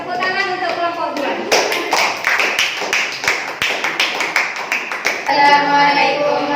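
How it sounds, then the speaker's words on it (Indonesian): Classroom applause for a student group, a burst of many hands clapping in dense irregular rhythm for about four seconds, framed by a teacher's voice before and after. "boleh tepuk tangan untuk kelompok 2"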